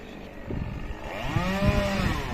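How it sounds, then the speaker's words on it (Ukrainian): A petrol chainsaw being used to cut grass outdoors on a windy day, its engine whining and revving in rising, uneven bursts at moderate distance over steady wind noise. "він траву косить бензопилою"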